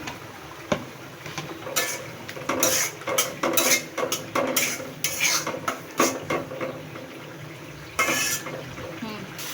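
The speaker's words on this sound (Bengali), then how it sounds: "এখন এখানে আমি চিংড়ি মাছটা এর সাথে দিয়ে কষিয়ে নেব" Shrimp being stir-fried with spices in a pan, with repeated scraping and clattering of a utensil against cookware, broken by brief pauses and a sharp knock near the start.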